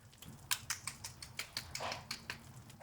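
Faint, quick crackles and crunchy ticks repeat irregularly from crispy double-fried Korean chicken, a dozen or so sharp little pops close by.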